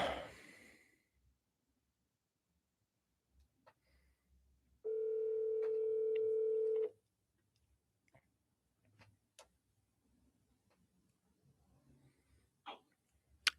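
A telephone call being placed to a real estate listing agent, with a steady two-second ringback tone in the handset amid faint ticks and quiet breathing in a mostly silent room.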